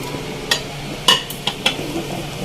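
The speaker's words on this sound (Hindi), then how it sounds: "इसको मैं अच्छी तरह से मिक्स करूँगी लौकी के साथ चने की दाल को" Bottle gourd and chana dal with green chillies are stirred in a pot, a spoon clinking and scraping against the metal in several sharp knocks over a low, quiet sizzle.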